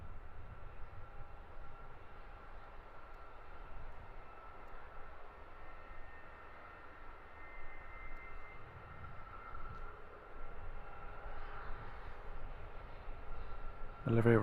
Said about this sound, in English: Wizz Air taking the new taxiway further down the runway to exit